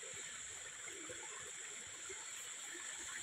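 Mountain spring water on Shingoba hill flows in a faint, steady wash with soft gurgles, continuous and unbroken, with no voices.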